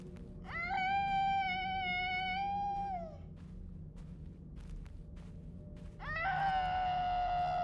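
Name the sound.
mimic creature screaming in a horror video game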